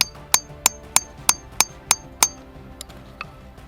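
A hammer strikes hard in the wild during a survival challenge to make fire without matches, giving about seven sharp, evenly spaced metallic blows up close, followed by two fainter taps, with no talking.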